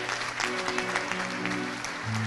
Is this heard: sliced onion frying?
no